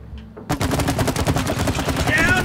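Loud, rapid automatic gunfire bursts out after a moment of quiet and keeps firing in a fast rattling stream during play of the co-op video game It Takes Two.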